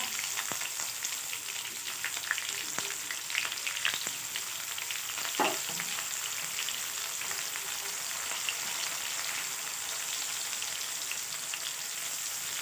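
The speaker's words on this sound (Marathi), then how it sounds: "छानपैकी फ्राय करून घेणार आपण हे सगळं साहित्य" Cumin seeds, garlic cloves and onion frying in a pan, a continuous close sizzle with scattered crackles and occasional stirring scrapes, steady throughout with no speech.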